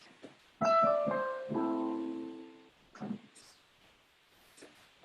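A minor chord is struck as a substitute for the one chord, a bright plucked or keyboard-like tone ringing out and decaying, followed by a softer struck note and faint rustling.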